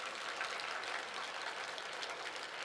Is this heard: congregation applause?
yes